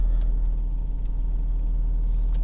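An old Jaguar car with its engine just fired up and idling, a steady close low rumble with no break.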